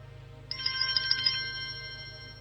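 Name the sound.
notification tones of FK98 Apple Watch 6 replica smartwatch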